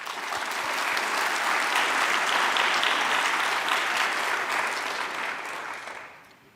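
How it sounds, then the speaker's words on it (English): An audience applauds at a Kyushu University fall commencement ceremony, a dense steady clapping that swells, holds for several seconds and then fades out near the end, with no voices over it. "Please applaud."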